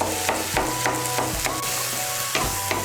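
Boiled egg being stirred and mashed into aubergine bhorta, a series of close, soft scraping and squelching strokes at an uneven rhythm, with no voices.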